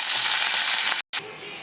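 Curry leaves go into hot oil already tempered with mustard seeds, cumin and fenugreek seeds, giving a loud, steady sizzle that briefly cuts out and then returns more quietly.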